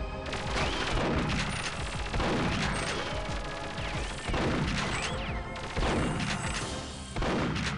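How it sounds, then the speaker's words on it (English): Repeated heavy shotgun blasts in the Perfect Dark video game, several booming shots at steady intervals roughly a second apart, loud and close over continuous game music and effects. "Oh yeah, that's right. The shotgun."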